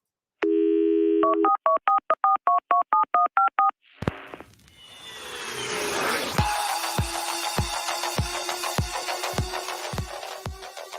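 A run of telephone keypad dialing tones, short evenly spaced beeps in quick succession, followed by a line connecting and a steady repeating ring pulse.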